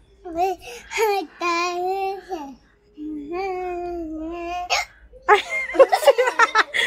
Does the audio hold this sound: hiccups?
yes